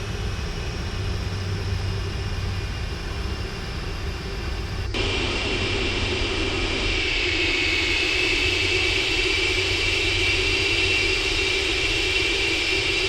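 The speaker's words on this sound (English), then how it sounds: "You can hear the characteristic sound of the Rolls-Royce engines." Rolls-Royce jet engines on a Cargolux Boeing 747-400F in the Prepar3D flight simulator hold a loud, steady roar and whine at a runway holding point, shifting in tone partway through with no talk.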